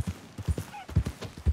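Horse hooves clip-clop at a steady walking pace in Red Dead Redemption II, the clear, close, even thuds repeating throughout with faint game ambience behind.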